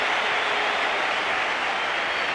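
Cricket crowd at the Sydney Cricket Ground during a 1993-94 World Series match between Australia and South Africa, a loud continuous wash of applause and cheering without breaks.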